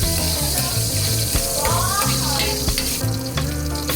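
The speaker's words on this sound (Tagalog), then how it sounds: "At igisa na natin ang ating bawang." Garlic sautés in cooking oil from Baguio in a kawali for squid adobo. A steady loud sizzle runs throughout over a low droning hum, broken by occasional sharper spatters.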